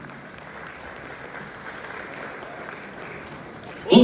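Scattered applause from a seated audience at a comedy event, steady and moderate throughout, with a sharper burst of clapping right at the end.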